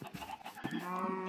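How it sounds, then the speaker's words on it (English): Blocky free-range chicken in Minecraft clucking, a few short close clucks followed by a steadier sustained squawk, fairly quiet with no talking. "Free range chicken"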